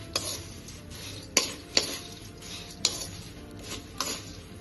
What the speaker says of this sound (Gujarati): હવે આપણે આ બધી વસ્તુને એકદમ સરસ રીતે મિક્સ કરી લઈશું।